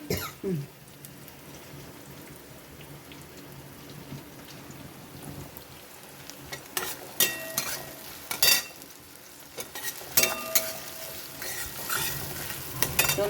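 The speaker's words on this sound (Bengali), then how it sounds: "এখন পেঁয়াজটা ভাজা হোক।" Onions frying in oil in a pan for a Bengali koi fish oil-jhal curry: a steady sizzle with spatula stirring, swelling into louder crackling bursts in the second half, with no talking.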